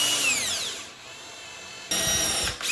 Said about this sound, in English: It's easier when you're drilling down.